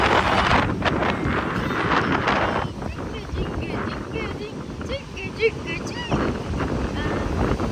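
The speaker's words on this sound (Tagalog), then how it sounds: "sobrang hangin dito" Strong wind at a beach roars across the microphone in steady, loud gusts, with faint voices breaking through briefly in the middle.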